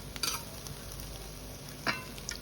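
Coriander leaves stirred in a pan for a mashed scallion and coriander bharta, a soft steady sizzle under a few brief scraping stirs, close and moderately quiet, no talk.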